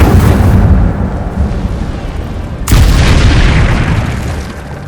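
An Incendio fire spell cast in Hogwarts Legacy, a loud booming burst that hits suddenly midway over a dense roaring wash of noise and then slowly fades.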